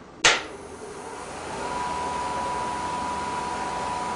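A wood lathe spins up to about 1,000 RPM for rough turning, driven by a 2 horsepower motor. One sharp knock opens it, then a steady broadband whir holds with a faint tonal hum, alone and fairly quiet.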